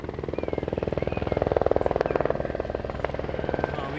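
A helicopter arriving at a restaurant helipad in France, its rotor thudding in a rapid, steady beat, loud and close, with faint voices underneath.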